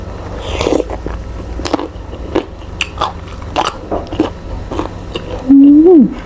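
Crisp, crunchy bites into a young green mango of the baobao variety, several sharp snaps spaced through the clip, close and loud, with a short voiced sound at the end.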